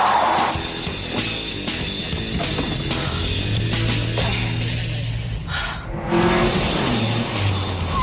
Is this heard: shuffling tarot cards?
no